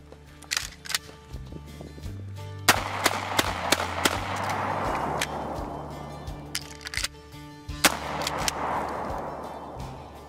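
1893 trench shotgun in Hunt: Showdown fired in quick bursts, a cluster of sharp blasts, a pause with a long reverberant tail and mechanical clicks, then another rapid volley, loud and close.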